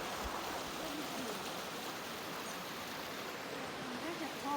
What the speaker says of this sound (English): Oh, this river. I like it. I like the sound.